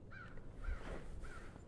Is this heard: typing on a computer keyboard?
no